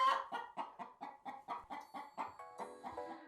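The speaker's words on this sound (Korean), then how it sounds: "옥포는 반려닭입니다" A pet chicken clucks close by in a steady series of about a dozen short, evenly spaced clucks, clear and alone.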